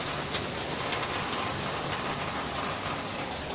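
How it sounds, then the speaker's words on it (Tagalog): Heavy rain pours steadily outside, a dense, continuous hiss of drops hitting surfaces at close range with no talk over it. "Grabe na kasi ulan na yan."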